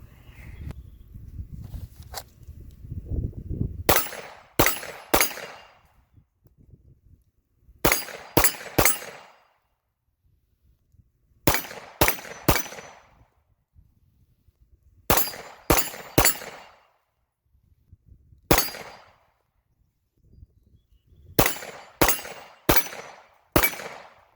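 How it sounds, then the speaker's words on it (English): Glock 17 Gen 4 pistol fitted with a Ghost 3.5 connector firing in sharp close bursts of two to four shots, separated by pauses of a second or more, fired at about 7 yards. "we'll do a little shooting here, wrap this up, shoot another little group"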